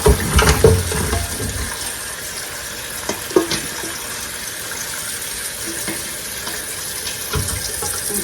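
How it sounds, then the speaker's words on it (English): Boiled pork neck bones and their cooking water poured from a pot into a kitchen strainer in a sink, a splashing pour at the start, then steady running and dripping water with a few small clanks. "I'm going to dump them down here into a strainer."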